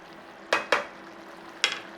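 Drained white beans and butter beans drop into a hot chorizo skillet with three short, wet thuds and brief sizzles over a faint steady hiss.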